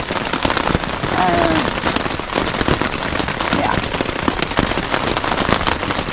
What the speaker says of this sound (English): So I don't mind hiking in the rain